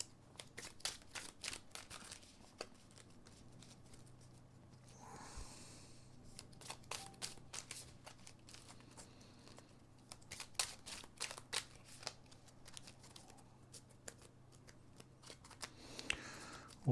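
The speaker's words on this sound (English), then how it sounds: "Give these a good old shuffle up." Marvel Champions playing cards are shuffled by hand close up, a long run of quick riffling bursts and soft slaps that repeat steadily with short pauses between them.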